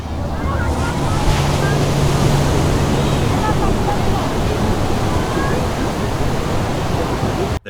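Ocean surf washes continuously onto a crowded beach, a broad steady roar of breaking waves mixed with wind buffeting the microphone and faint distant voices.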